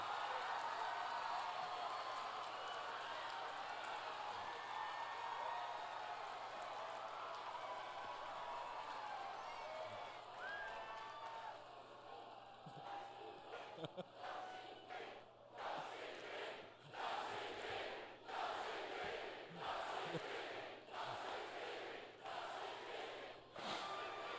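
A large crowd roars continuously, swelling into rhythmic, pulsing cheers and chants toward the end, loud and distant-sounding like a packed arena.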